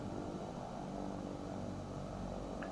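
An Embraer 110 Bandeirante turboprop engine idling in a flight simulator game, giving a steady, low droning hum with a faint whine that holds even throughout, quiet and continuous.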